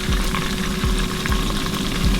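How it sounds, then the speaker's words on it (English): Onions with ginger and garlic paste fry in a pan with a steady, close sizzle, and a utensil stirs and scrapes a few times underneath. "I want the onions, the ginger, and the garlic to fry together"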